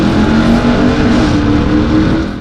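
A Ram TRX pickup truck's loud, deep engine revs hard and holds a steady roaring drone, close up and continuous, with no voices.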